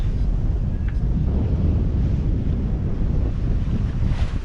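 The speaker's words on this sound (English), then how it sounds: "we could both do with a bit of a rest from this relentless wind we've had for the last 24-36 hours" Strong, relentless wind roars without pause across the microphone at sea aboard a sailboat on an Atlantic passage from Jamaica to Panama, with waves washing underneath throughout and no talk.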